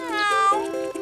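A cartoon cat gives a single drawn-out meow of about a second, close and clear with a bright, wavering tone that dips briefly near the end.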